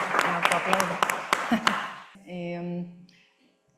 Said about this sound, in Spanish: démosle un aplauso de bienvenida a nuestra directora, la maestra Lavinia Enid Espinosa Heredia